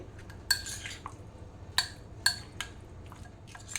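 Paneer cubes being mixed with spices in a bowl, heard as a few sparse, light clinks of a utensil against the bowl over a quiet background, with no talking.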